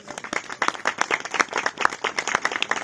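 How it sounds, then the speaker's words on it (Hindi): An audience at a Christian church gathering claps and applauds steadily, dense overlapping claps filling the room at close range, sustained throughout with no speech. "ताली बजाएंगे।"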